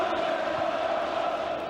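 Hibs fans roar and applaud at Easter Road after a 6-2 derby win over Hearts, a steady, loud crowd din with no pause from start to finish.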